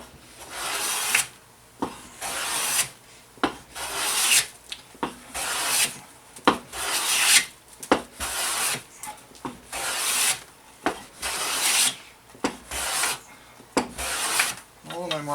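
A hand plane shaving a wooden board in repeated strokes, about a dozen rasping swipes in a steady rhythm, close and fairly loud, each followed by a short pause.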